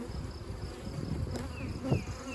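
Honey bees buzz steadily at an open hive frame of nectar and brood during splitting, a soft, continuous close drone with faint clicks of handling in the background.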